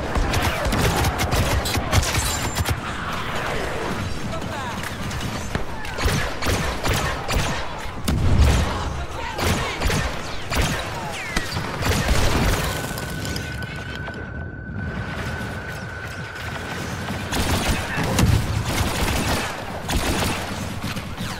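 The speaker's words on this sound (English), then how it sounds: "Incoming mortar strike." Mortar strike and rapid gunfire in the video game Star Wars Battlefront 2 on Ajan Kloss, a continuous dense barrage of shots and booms with a sustained tone in the middle.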